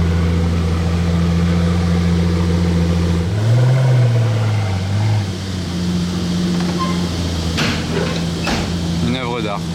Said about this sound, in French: Le ronronnement du V12 AMG.